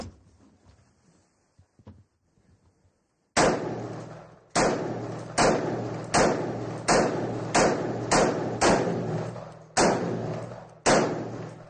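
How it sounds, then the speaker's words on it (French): An automatic rifle fires off a 30-round magazine: after a near-silent lead-in, about a dozen loud, sharp reports crack out in a fairly steady series, each trailing off in a short echoing decay. "Le chargeur de 30 balles est vidé en quelques secondes."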